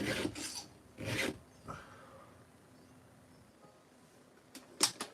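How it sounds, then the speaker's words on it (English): A round file rasps against a chainsaw chain in a few short, close strokes, with two quick passes near the start and a faint scrape later, otherwise quiet. "So you do like 2 or 3 files at the regular recommended angle."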